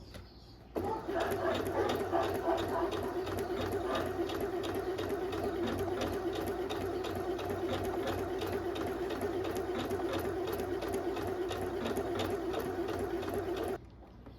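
Sewing machine stitching white fabric along a folded edge, a steady continuous mechanical whir with rapid regular needle beats running for about thirteen seconds before stopping.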